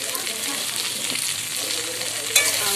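Potatoes fry in a wok over a wood fire, giving a steady, close sizzle with a brief stirring clatter near the end.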